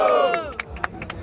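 Crowd at a Brazilian freestyle rap battle, the Batalha da Aldeia in Barueri, shouting and cheering loudly up close, with several sharp bursts of yelling and claps cutting through.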